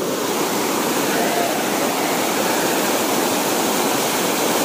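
Water released from above rushes over stones like a small waterfall, trapping air and turning white, a steady dense roar close by at night, with no talk.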